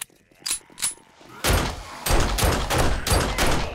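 Shotgun reload in the zombie survival game 7 Days to Die: a few sharp mechanical clicks, then a run of loud, booming blasts in quick succession.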